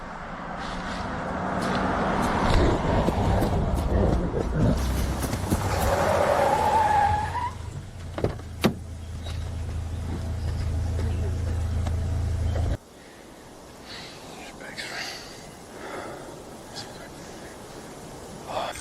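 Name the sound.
car pulling over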